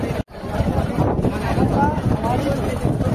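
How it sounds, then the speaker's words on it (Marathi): Small passenger boat coming in to the shore on a free ferry service, a steady rumbling wash with wind buffeting the microphone throughout, close and fairly loud. "ही होडी आता किनारा लागलेली आहे."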